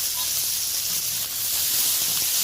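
Chopped onion, tomato and green chilli hitting tempered oil in a pan, a loud, steady hiss and sizzle that holds evenly throughout, close up.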